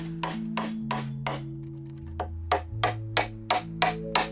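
Hand tools chop square through-mortises in wood for traditional house joinery, a steady series of sharp knocks about every half second, close and distinct with no talk.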